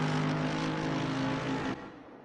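GT3 race car on the Kemmel Straight in the sim racing game Assetto Corsa Competizione: a loud, steady engine drone with a sustained tonal whine, then a sudden drop-off as it passes, with no talk over it.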